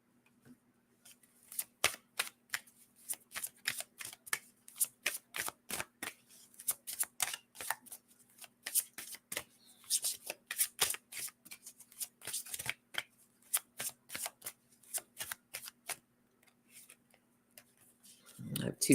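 Oracle cards being shuffled in rapid, crisp riffling bursts that repeat steadily for most of the stretch, close and clear over a faint low hum.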